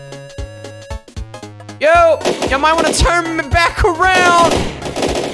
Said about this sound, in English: They have machine gun